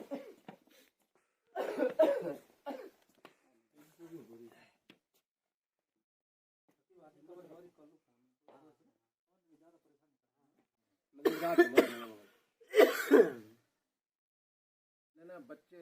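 Several loud, harsh coughs in short bursts break up quiet speech from a person nearby, with pauses between the fits.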